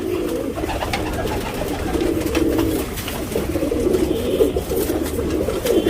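Pigeons being readied for a tournament coo steadily and close by, soft rolling calls overlapping throughout with no talking.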